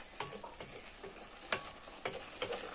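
Malabar spinach greens with seed clusters stirred in a cooking pot in village-style cooking, quiet irregular scraping and tapping strokes over a soft, low sizzle.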